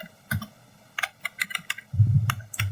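Keys tapped on a computer keyboard while entering network settings, a quick irregular run of close clicks and thumps with a brief heavier burst midway, no voice.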